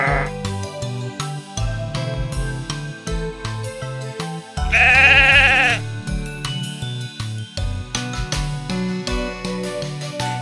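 A single drawn-out sheep bleat rises clearly over bouncy cartoon-style music in a toy Peppa Pig farm story, near and loud for about a second before the tune carries on.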